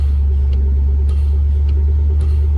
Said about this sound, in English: It didn't stall. That's an impressive engine.